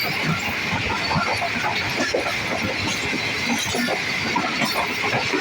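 Two Allama Iqbal Express passenger trains of Pakistan Railways pass each other on a rainy day, a loud, steady rush of clattering wheels and rail noise heard close by throughout.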